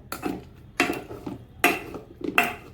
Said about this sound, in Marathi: आपली भाजी गरम आहे तोपर्यंत हा ग्लासने कुस्करून घ्यायचे